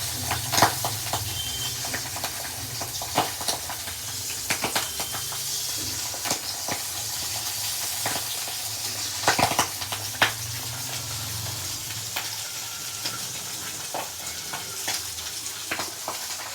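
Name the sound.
potatoes frying with salt and turmeric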